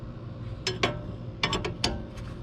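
Ratcheting clicks from a spring compressor being tightened on the rear spring of an Audi S4/S5 during a lowering-spring install, heard as a few close, short metallic bursts in two small clusters.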